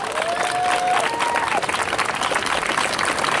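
Loud, dense clapping from a street-dance crowd outdoors, continuous and even, with a few high whistles or shouts mixed in at the start.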